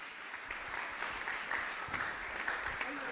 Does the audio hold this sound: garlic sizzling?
no